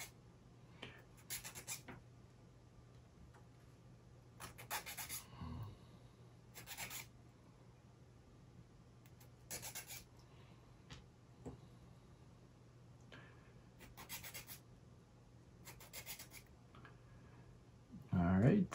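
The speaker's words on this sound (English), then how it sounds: "now we gotta wax or sand 4s, take these little connection points out." Small connection points being sanded off UGears wooden model parts for a Windstorm Dragon assembly, with short repeated bursts of rasping strokes separated by brief pauses, close and fairly quiet.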